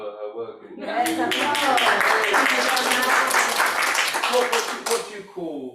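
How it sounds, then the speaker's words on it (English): An audience at an independent artists' performance bursts into close, lively applause that lasts about four seconds, with speech before it and after it. "And applause for Lorna for her work."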